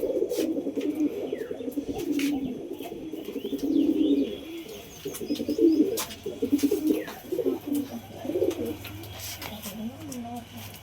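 Giribaz high-flying pigeons coo in low, rolling bursts close by, with occasional chirps and a voice talking in the background.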